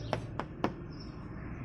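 The bonnet of a Suzuki Khyber car gets three quick, moderately loud knocks, each a short hollow metallic tap evenly spaced. The knocks sound alone against a low steady background hum.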